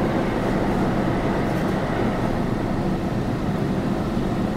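Kolkata metro train running from the airport toward Noapara, a steady dense rumble of carriages in motion heard from inside, constant and loud without speech.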